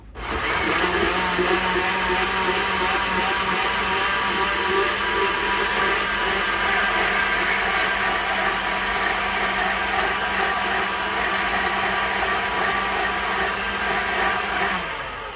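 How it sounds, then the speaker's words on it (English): Blender running steadily with its lid on, a loud continuous whirring motor with a hard buzzing edge, unbroken for about fifteen seconds. "I'm gonna grab a lid, put it on there, and then blend."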